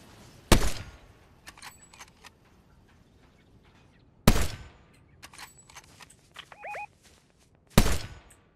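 Three sharp, loud video game sniper rifle shots spaced a few seconds apart, each with a brief ringing tail, with faint clicks and mechanical handling sounds in between.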